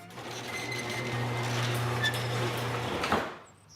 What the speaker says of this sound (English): how about sparing a thought for your faithful garage door?